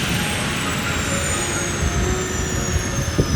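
An air ambulance helicopter sits on a hospital helipad outside the emergency department, giving off a steady, loud turbine whine and broadband rotor roar that holds constant throughout with no voices.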